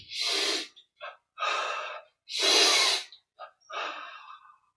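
Forceful breaths exhaled during a yoga exercise, heard as a series of loud, breathy rushes of varying length separated by short pauses and a few quick sniffs, close to the microphone.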